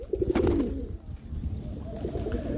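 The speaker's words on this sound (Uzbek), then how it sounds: "Kaptar yaxshi kaptar ekan, ota-onasi ham uchardi." Domestic pigeons coo close by, a burst of warbling, throaty calls at the start that eases off and then returns more faintly, over low background rumble.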